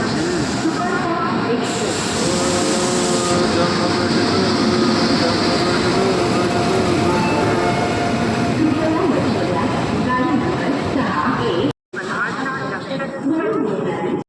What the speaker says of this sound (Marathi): फायनली मित्रांनो ट्रेन आली आपली.